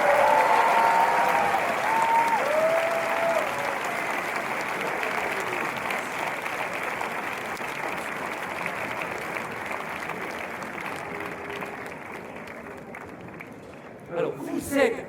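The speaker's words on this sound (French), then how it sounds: "Sous vos applaudissements." Audience applause at an archery final during the Roi de l'Oiseau 2023 ceremony, dense sustained clapping from a crowd that slowly thins and fades, with a voice briefly audible near the start and a few closing sounds at the end.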